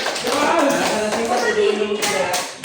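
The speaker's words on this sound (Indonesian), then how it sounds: "Beri tepuk tangan untuk jawaban kelompok 3" A classroom of students claps in applause, a dense run of close hand claps lasting a couple of seconds with voices mixed in underneath.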